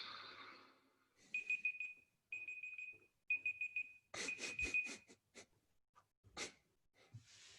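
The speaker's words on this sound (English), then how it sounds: "It's the fucking egg timer, baby." An egg timer rings in a quiet room: several short shrill electronic beeping bursts in a regular on-off pattern, then a louder rattling ring and scattered clatter, close and with no one talking.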